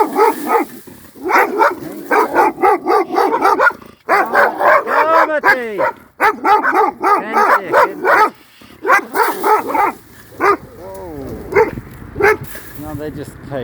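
Caged dogs bark loudly and close by in rapid, repeated bursts, with yips and whimpers between the volleys and short pauses breaking up the barking.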